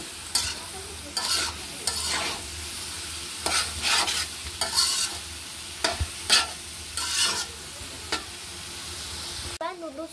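Vegetables being stir-fried with fried egg for vegetable noodles, a continuous sizzle broken by repeated rhythmic spatula scrapes and clanks against the pan, close and fairly loud, no talking.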